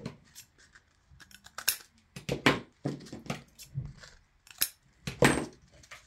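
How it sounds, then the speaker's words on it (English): Scissors cut through craft material for an Easter fake-bake hat decoration: a series of crisp, close snips in irregular bursts, some quick and some spaced apart, with no talking. "all you're going to do is cut this so it can be straight, so it can lay flat"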